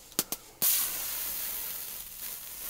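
An overheating IKEA battery gives off smoke with a sudden steady hiss, preceded by two brief sharp pops, then a sustained broadband hiss continuing alone at moderate level.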